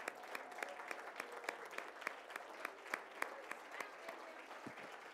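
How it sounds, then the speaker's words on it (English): Audience applause at a Hispanic Heritage Month celebration honoring a student: quiet, distant clapping that stays steady throughout, with individual claps standing out in a fairly even rhythm. "Let's give him a wonderful round of applause."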